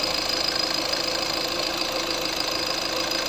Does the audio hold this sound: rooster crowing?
no